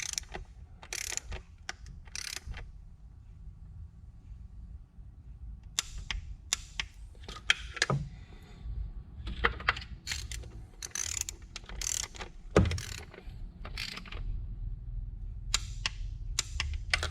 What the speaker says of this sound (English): We're going to do this with a torque wrench.